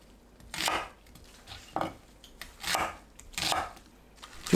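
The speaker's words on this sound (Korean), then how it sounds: "쪽파를 3cm 길이로 썰어줍니다." A knife chops green onions into 3 cm lengths on a cutting board, a handful of crisp slicing strokes at an uneven pace, close and fairly quiet.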